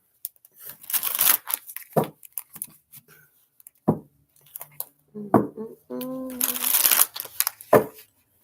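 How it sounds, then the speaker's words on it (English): Tarot cards being shuffled and drawn, giving scattered crisp riffles, snaps and papery slides, with a person talking and humming over part of it. "Let's go ahead and pull some tarot cards."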